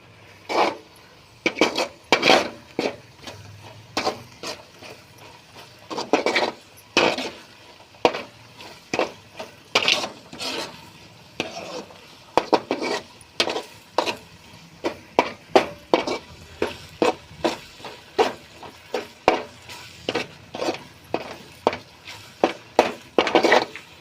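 Tomato thokku with chicken powder is stirred in a pan, giving a long run of loud, close scraping strokes of a spoon against the metal in a fairly steady, repeated rhythm.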